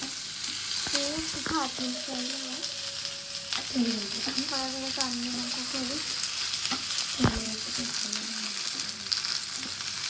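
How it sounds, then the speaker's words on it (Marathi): Overheated oil in a pan on a lowered gas flame sizzles and spatters steadily, a continuous hiss with scattered pops, while voices talk over it. "गॅस आम्ही थोडा स्लो केलेला आहे, असे उडते खूप जास्त म्हणजे आम्ही तेल खूपच जास्त गरम केलंय."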